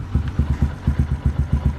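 A motorcycle engine idling close by, warmed up, a steady low rhythmic thumping of pulses with a slight mechanical rattle.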